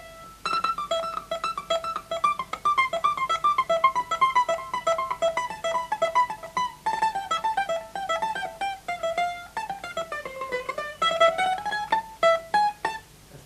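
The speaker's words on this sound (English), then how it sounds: "This is the sound of mandolin." Peruvian mandolin, a double-strung plectrum instrument, plays a continuous picked melody of bright, rapid repeated notes over a steady strummed accompaniment, clear and close with no voices.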